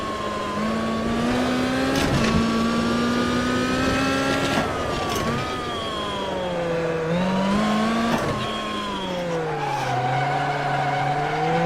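A rally car in the AMS1 racing game slides through a handbrake skid, its engine droning steadily while loud tire scrubbing rises and falls over about twelve seconds, with the engine note shifting as the car pivots.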